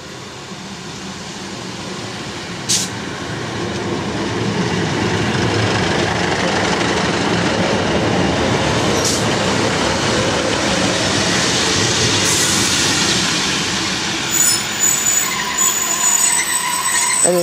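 A train rumbles steadily past with broadband rolling noise, rising as it departs Swinderby station, with brief high wheel squeals and clanks toward the end.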